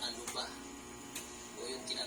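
An air conditioner cooling a room where a dog sleeps gives off a faint, steady low hum, with a few soft brief noises over it.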